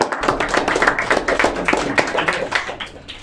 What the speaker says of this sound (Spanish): Sin nervios. Un aplauso.